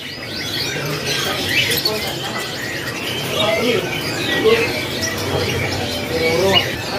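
Female kenari loper canary chirping at a bird shop, short high tweets scattered through a busy background of other birds and voices.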